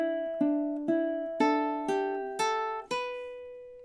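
Ukulele picking out a single bar of a song, seven clear plucked notes in a steady, evenly spaced rhythm, each ringing and fading, close and solo with no voices.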